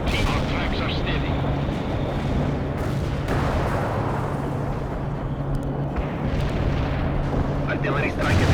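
Rumbling artillery strike explosions in World in Conflict, dense overlapping booms and gunfire rolling on continuously and loud, with game voice radio chatter over them.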